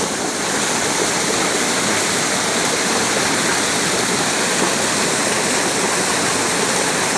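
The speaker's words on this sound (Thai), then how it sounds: "เสียงน้ำโอ้ สวยสวยสวย" Water from Ta Thoen Waterfall roars steadily and evenly, a dense continuous rush that holds at the same loud level from start to finish.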